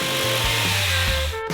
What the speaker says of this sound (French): vous devez couper le contreplaqué pour les parois avec une scie sauteuse électrique